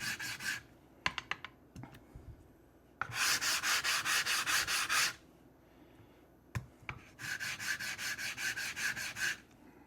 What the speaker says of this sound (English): The other thing that you want to do is to chamfer the edges, and I just do that very quickly.